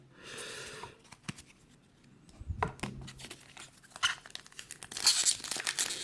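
A foil wrapper is torn off a Shadows over Innistrad fat pack during an unboxing, heard as close, short crinkling and tearing bursts with quiet gaps between them.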